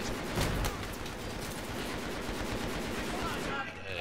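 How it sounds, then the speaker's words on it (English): Continuous loud gunfire in the video game Battlefield 3 on the Seine Crossing map, a dense unbroken barrage of rapid shots filling the whole stretch. "Who's shooting us?"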